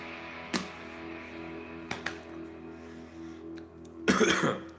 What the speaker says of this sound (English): And that cough is still here.